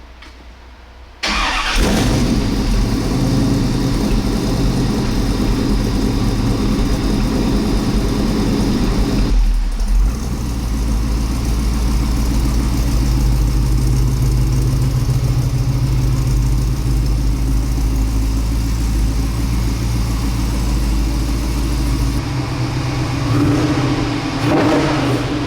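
A 1951 Chevrolet 3100 resto-mod pickup engine starts up loudly, settles into a deep rumbling idle, briefly drops off near ten seconds, then keeps running steadily with some revving, close by in a garage and without speech.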